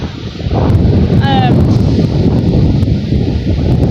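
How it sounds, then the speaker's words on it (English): Wind buffets a microphone outdoors, a loud low rumbling roar that starts after a brief lull and keeps gusting continuously, with a short chirp-like tone briefly over it. "Oh, wind's picking up, that's nice. Oh, hope it's not deafening y'all."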